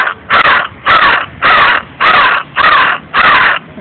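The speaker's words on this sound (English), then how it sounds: "where's that monster bird?" A talking crow in Harlem, New York, gives six loud, close caws in a steady rhythm, each about half a second long and separated by short gaps, with no other voices or sounds around them.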